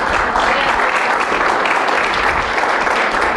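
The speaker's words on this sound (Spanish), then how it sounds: "Denle un aplauso a Dios." A church congregation applauds during a sermon, giving a short burst of dense, loud, even clapping that holds steady throughout.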